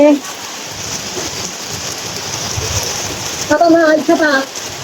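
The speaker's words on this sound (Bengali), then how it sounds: "অনেক জোরে বৃষ্টি নামতেছে" Heavy rain pours in a steady broadband hiss, close and loud, with a voice briefly speaking over it near the end.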